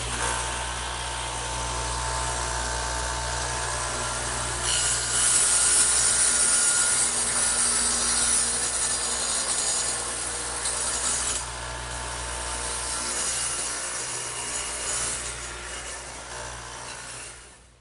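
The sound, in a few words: radial arm saw with dado head cutting wood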